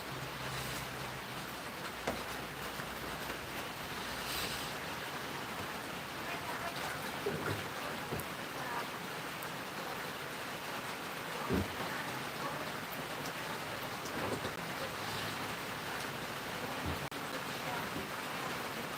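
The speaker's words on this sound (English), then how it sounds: "And do you hear the rain?" Rain falls steadily outdoors by a jacuzzi, a dense, even hiss with scattered louder drops spread across the whole stretch, fairly close and continuous.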